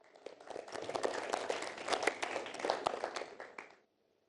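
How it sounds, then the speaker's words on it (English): An audience at an Islamic quiz show claps steadily for a team that scored 80 points, a dense wash of hand claps lasting about four seconds before stopping abruptly, with no talk over it. "Please applaud."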